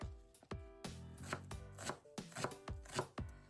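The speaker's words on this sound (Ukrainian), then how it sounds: "Беремо одну цибулину середнього розміру і теж нарізаємо мілким кубиком." A knife dicing a medium onion into small cubes on a cutting board: a run of sharp, close chops at an uneven, fairly quick pace.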